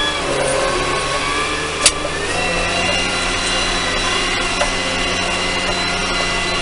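A farm tractor with a conventional gearbox and forward and reverse drives near a young-stock barn, its engine a steady, loud, continuous drone with one sharp click partway through.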